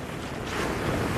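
Sea waves wash steadily onto a shore at Sawat, Tagudin, Ilocos Sur, a broad continuous surf roar with some wind buffeting the microphone, swelling slightly louder partway through.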